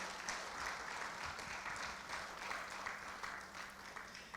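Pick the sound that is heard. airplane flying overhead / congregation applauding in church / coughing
congregation applauding in church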